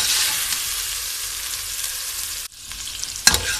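Mutton hits a pan with garlic, ginger and onion for spiced achari gosht, a loud continuous sizzle that drops briefly, then a clatter as it's stirred, with no speech.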